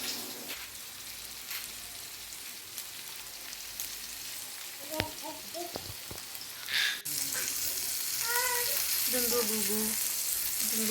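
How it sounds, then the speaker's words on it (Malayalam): Fish frying in a pan in a home kitchen, a continuous hissing sizzle that grows louder partway through, with faint voices and small sounds in the background. "മീനും കൂടി ഒന്ന് വറുത്തെടുക്കാം"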